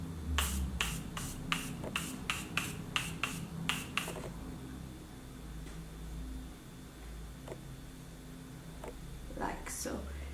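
Morphe setting spray is pumped onto a face in a quick run of about nine sharp, close misting bursts, followed by a quieter stretch with only a few faint scattered sounds.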